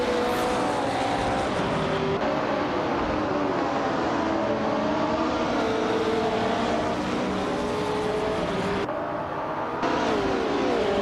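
Racing-game cars, led by a 1968 Porsche 909 Bergspider, pull away from the start at Snetterton 200 with a steady, loud blend of revving engines whose pitch rises and shifts as the pack accelerates together.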